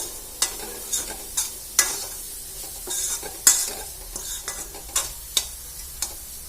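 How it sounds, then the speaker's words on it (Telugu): A carrot and green chilli fry being stirred in a pan: a soft steady sizzle under regular, distinct scraping strokes of a spoon against the pan, close and clear, no speech. "చూడండి ఇట్లా మంచిగా కలిపేసుకోవాలి"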